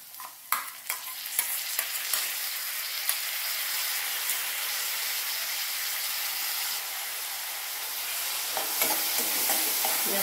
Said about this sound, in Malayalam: ഇനി ഇതിലേക്ക് നമ്മൾ അരച്ച് വെച്ചില്ലേ പച്ചമുളക്, ചെറിയ ഉള്ളി, ജീരകം, ഇഞ്ചി എല്ലാം കൂടി ആ പേസ്റ്റാണ് ഇടുന്നത്